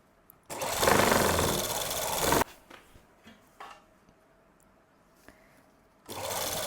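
A sewing machine stitches a palazzo in a loud, steady run of about two seconds, followed by quiet handling clicks, then starts up again near the end.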